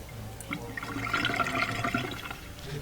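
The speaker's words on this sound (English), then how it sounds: "now I can see that it's draining really well and the water's shooting out" Water from a Bosch dishwasher drain hose gushes and splashes steadily for a few seconds, close by and moderately loud.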